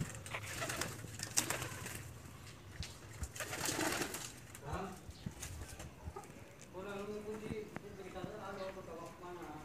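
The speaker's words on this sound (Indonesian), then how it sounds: "Nah ada yang di kandang burung darah." Pigeons (doves) coo in a bird cage with soft, repeated throaty calls, near and fairly quiet, while a person speaks over them and occasional knocks and rustles are heard.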